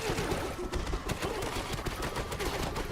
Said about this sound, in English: so that's where the explosion needed to be